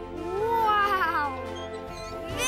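Cat stuck up a tree giving a drawn-out, rising and wavering meow, then a second shorter cry at the end, fairly close and clear.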